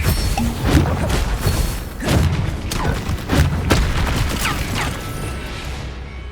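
Confringo fire-blast spells being cast in the video game Hogwarts Legacy, a dense run of loud booming blasts and crashes that repeats several times over steady game noise and fades at the end.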